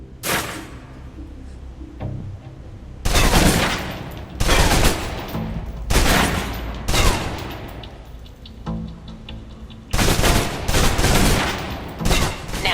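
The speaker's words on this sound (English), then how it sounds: "Now, let's move on to the submachine gun. Now let's empty the clip." Bursts of submachine gun fire from the video game Alpha Protocol, a full magazine emptied in several loud, sustained volleys separated by short pauses, with no talking.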